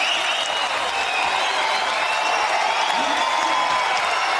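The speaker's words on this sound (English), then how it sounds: "And you can hear the roar of this crowd" Basketball crowd at a FIBA 3x3 World Cup game in Amsterdam, a sustained roar of cheering and applause from a large outdoor audience, loud and unbroken, with a commentator's voice faintly mixed in.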